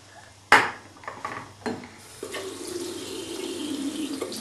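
Water runs from a bathroom tap as a child is washed, starting after a sharp knock and settling into a steady close splashing stream.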